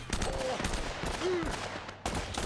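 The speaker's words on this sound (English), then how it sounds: "there's someone shooting at me from the side" An enemy fires at the player from the side in Uncharted: Drake's Fortune on Brutal difficulty, with rapid bursts of gunfire crackling over steady game ambience.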